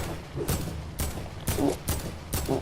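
Gunfire in a multiplayer shooter video game, heard as several bursts of rapid shots at steady intervals over a constant background rumble, fairly loud, with no talk.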